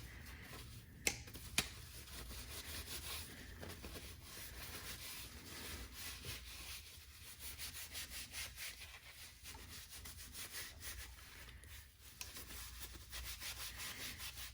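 Cleaning wipes scrub over hand tools in steady back-and-forth rubbing strokes, a continuous close, dry friction broken by a couple of sharp clicks near the start, with no talking.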